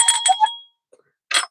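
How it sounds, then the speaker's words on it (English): Small hand bell rung twice in quick succession, bright metallic strikes with a short ringing decay, then a brief pause before another quick ring close by; no talking. "What is wrong with my little bell?"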